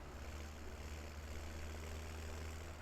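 A tractor engine idles with a low, steady, even rumble, fairly quiet and unbroken, with no voices.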